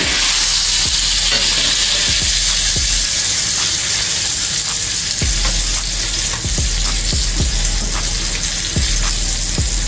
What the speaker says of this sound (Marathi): आता दुसऱ्या साइडने पण आपण तसंच फ्राय करून घेऊया